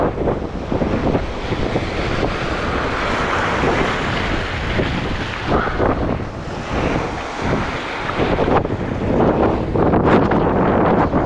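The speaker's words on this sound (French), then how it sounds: "le vent est frisquette" Strong, cold north wind at the waterside buffets and roars continuously, with gusts rising and falling and a rushing, surf-like wash underneath.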